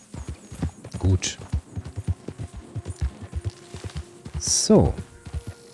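Horse hooves clip-clop in a steady walking rhythm while riding in Red Dead Redemption 2, close and moderately loud, with someone talking over the footfalls and a brief snort or whinny near the end.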